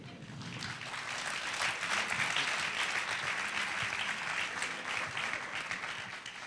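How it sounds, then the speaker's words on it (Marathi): An audience applauds at a prize distribution, a continuous wash of clapping from many hands that holds steady for several seconds at moderate distance, with no talking over it. "एकदा जोरदार टाळ्या होत्या यांच्यासाठी"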